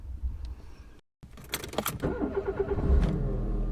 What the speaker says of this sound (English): let's start the car up and set off